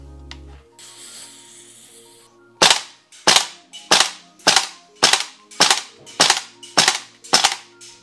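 Nine sharp, loud shots from an AK-74M gas blowback airsoft rifle at 110 PSI ring out at an even, steady pace outdoors, after a brief quiet stretch with faint mechanical noises.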